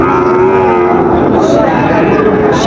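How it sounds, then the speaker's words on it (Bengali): A Sahiwal bull calf at a cattle market in Dinajpur gives one long, loud, close moo. It runs unbroken across the whole moment, with faint market murmur underneath. "শাহিওয়ালের ষাঁড় বাচ্চা"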